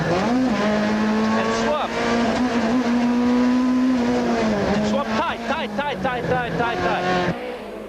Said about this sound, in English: Jan pushes his Golf Synchro to the limits